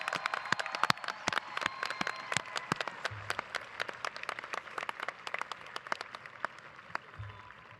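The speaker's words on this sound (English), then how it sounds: "Please give a round of applause for these students." A high school graduation crowd claps for honor graduates, loud and sustained with sharp individual claps standing out, gradually thinning toward the end.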